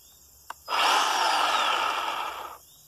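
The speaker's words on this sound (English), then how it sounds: "I'm going to show you my little electric chainsaw." A small electric chainsaw runs in one steady burst of about two seconds, a loud whirring buzz that rises quickly and cuts off, preceded by a brief click.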